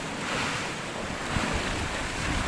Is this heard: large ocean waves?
yes